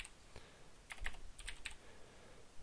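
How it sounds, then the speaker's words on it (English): Several quick keystrokes on a computer keyboard, a few isolated taps followed by a short cluster of clicks typing a command at a command prompt, close and fairly quiet against a faint background hiss. "I'm going to type in ipconfig,"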